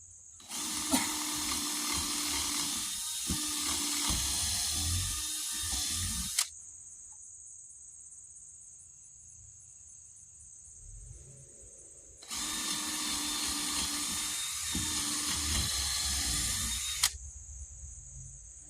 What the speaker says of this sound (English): The last of the screws to hold this 10-foot board up.